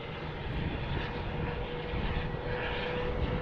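An aircraft engine drones steadily at Tucson International Airport, a continuous, moderately distant roar that holds level for several seconds with no talk over it.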